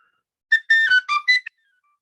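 Traditional Chontal wooden flute from Tabasco playing a short phrase of about five breathy, whistle-like notes in quick succession, clear and close, heard alone against silence.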